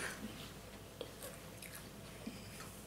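Cooked python snake meat is chewed close up, with soft, faint wet chewing and a couple of small bites over a quiet background.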